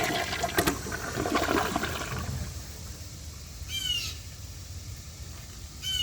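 A 10-inch Mansfield Summit toilet flushes up close, a loud rushing swirl of water that drains away into a softer trickle, with a few bird squawks breaking in toward the end.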